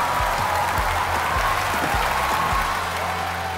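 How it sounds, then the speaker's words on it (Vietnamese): An audience applauds a performer at a dance battle show: a continuous roar of clapping sits over thumping low music beats, steady and full throughout. "Một tràng pháo tay cho Eric thưa quý vị"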